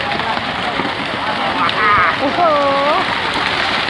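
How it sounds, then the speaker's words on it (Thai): Rain falls steadily outdoors around a Buddhist temple, a dense close patter under a voice that exclaims and speaks over it. "ฝนก็จะตกแล้ว"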